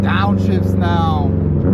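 A Subaru STI with a Tomei exhaust downshifts, its loud engine droning and shifting pitch up close while a voice sounds over it.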